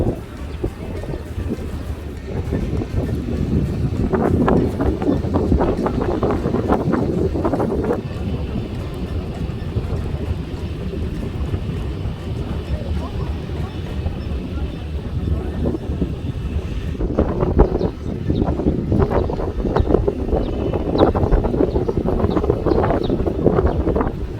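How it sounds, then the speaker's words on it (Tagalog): Steady roaring wind buffets the microphone beneath the Osmeña Bridge for the whole stretch, with louder gusts rising and falling and heavy low rumble throughout. "ang lakas ng hangin dito, oh"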